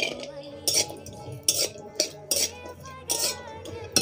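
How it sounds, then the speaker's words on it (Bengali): Cashews and almonds are stirred in ghee in a hot pan, with a utensil clinking and scraping against the metal in several distinct bursts, close by and fairly quiet. "আমি কাজু বাদাম, আমন্ড বাদাম আর কিশমিশ নিয়েছি। এবারে ভেজে নেব।"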